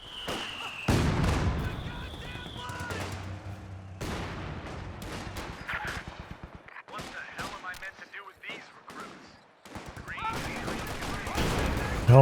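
MG42 machine gun fire in a Company of Heroes 2 two-versus-two match rattles out in dense bursts among loud explosions and artillery booms, with a commentator talking over the battle.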